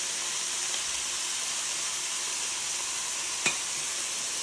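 Beef for bistek Tagalog fries in oil in a pan, a steady close sizzling hiss that holds evenly throughout, with one brief click near the end.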